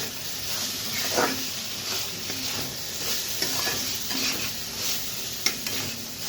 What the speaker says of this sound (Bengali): মশলাটা কষে গেছে